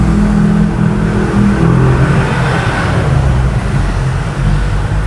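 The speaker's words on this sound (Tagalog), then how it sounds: "Dito naman po is RF Mazda mga boss, diesel pa rin po, manual transmission." Diesel engine of a Mazda RF with manual transmission, fitted in an owner-type jeep, running loud and close with a steady rumbling idle that swells slightly, no talking over it.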